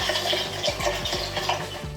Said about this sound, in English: so we're going to whisk that